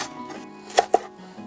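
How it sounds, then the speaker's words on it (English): Two sharp knife chops through an onion on a cutting board, close and crisp, spaced a fraction of a second apart against quiet room tone. "Ever wondered how to not cry when chopping an onion?"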